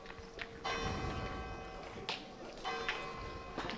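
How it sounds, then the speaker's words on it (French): Church bells ring from a belfry at ten o'clock during a pétanque match in Les Vans, sounding as repeated bright strikes at moderate distance over a murmur of crowd chatter and shuffling. "Voilà les cloches du beffroi."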